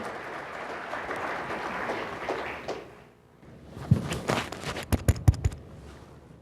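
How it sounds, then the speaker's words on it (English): A seminar audience claps for newly welcomed presenters in a steady, dense wash that fades out after about three seconds, followed by a few sharp, separate knocks and thumps nearby. "Give them a round of applause"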